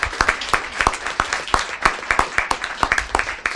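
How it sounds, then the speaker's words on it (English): Scattered applause from the audience at a school board meeting, with individual claps clearly separated in an uneven, fairly close rhythm that never builds into a dense roar. "Let's give them a round of applause."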